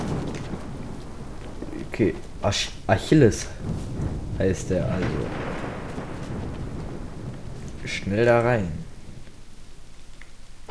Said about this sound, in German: Es regnet ohne Ende.